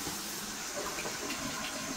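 Tap water runs steadily while hands are washed after handling raw meat for homemade burgers, a continuous close rushing stream with no talk.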